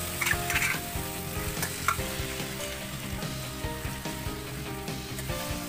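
Chicken thoran sizzles and fries steadily in a pan while being stirred, with scraping spoon strokes over a continuous hiss and no one talking.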